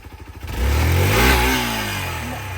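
An off-road vehicle on a trail near Vagamon idles with a quick chugging beat, then surges into one strong, close throttle push whose engine roar climbs, peaks and holds loud as it pulls forward.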